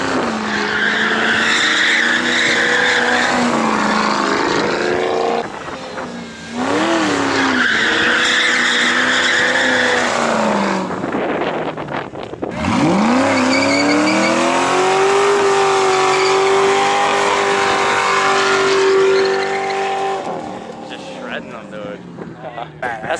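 SR20-powered Nissan S14 drifting, tires squealing loudly and continuously with the engine's pitch rising and falling through long slides, close and sustained, with voices talking over parts of it.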